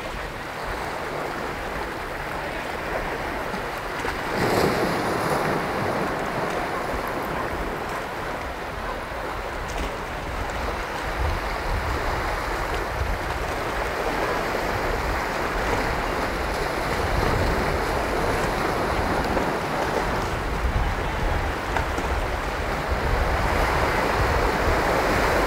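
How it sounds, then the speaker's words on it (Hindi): Waves on a deserted Paradise Beach in Gokarna roll in as a broad, continuous surf roar with swelling breaks, mixed with gusting wind buffeting the microphone. "So this is how the paradise beach looks, fully deserted."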